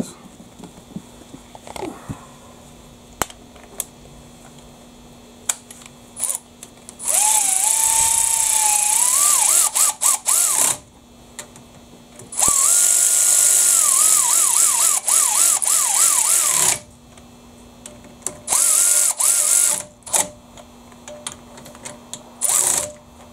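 A power tool tightens bolts on a 1997 Jeep Wrangler TJ differential while a new Spartan limited slip is installed, with two long loud whirring bursts, a shorter third one and clinks of tools between them.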